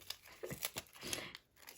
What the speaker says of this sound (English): Then I take my scissors